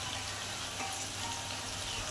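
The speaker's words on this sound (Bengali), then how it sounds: "এখানে এখন ভাজার পর্ব চলছে" Vegetables frying in a generous amount of hot oil in a home kitchen, a steady close sizzle with a soft bubbling crackle throughout and no talking.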